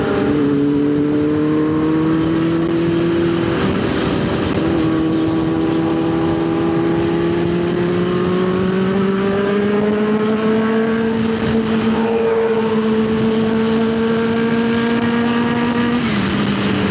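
A Kawasaki H2R motorcycle engine holds a loud, steady high-pitched drone whose tone climbs gradually as it revs, running continuously close by with no voices over it.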